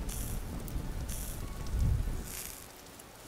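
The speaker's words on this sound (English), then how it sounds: "Fuck this rain" Rain falling in a Minecraft mod game, a steady broadband hiss of rainfall with a low rumble swelling briefly midway, continuous and fairly even with no talk.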